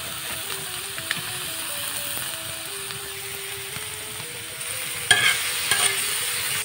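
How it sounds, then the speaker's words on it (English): Garlic frying in a pan alongside green beans for a mustard-flower mash, with a steady low sizzle under repeated scraping and stirring strokes, and a brief louder clatter near the end. "And fry the garlic together."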